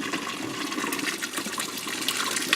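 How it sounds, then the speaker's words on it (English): Water pooling and draining through the filter bin of a DIY aquarium sump, a steady close rushing and trickling splash that runs continuously without pause. "all the water just kind of pools up and then drains through the bin"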